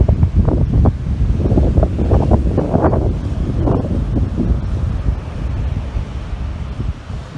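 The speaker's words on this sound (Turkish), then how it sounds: "Saros Körfezi'nde sabah saatlerinde başlayan kuvvetli fırtına etkisini artırarak devam ediyor." Strong southwesterly storm wind buffets the microphone on the Saros Gulf coast while giant waves surge against the shore, a steady loud roar with rushing surf throughout and no voices.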